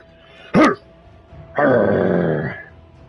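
A man imitates a dog with his voice: a short harsh bark-like yelp, then a longer rough growling 'rough' sound about a second later, close and loud.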